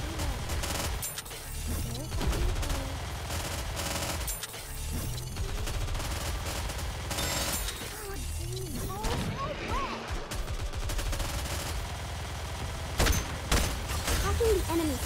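Sustained gunfire barrage in the video game Nikke: Goddess of Victory, loud and dense across the whole stretch, with crashing impacts and mechanical clatter, game voices calling out over the shooting.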